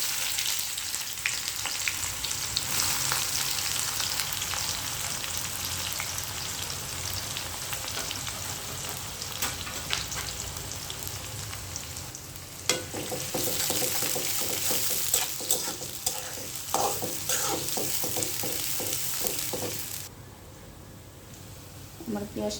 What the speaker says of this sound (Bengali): আমি এখন আস্তে কিছু জিরে দিতেছি। গরম হয়েছে তেল। তারপর দিব যে পেঁয়াজ কুচি,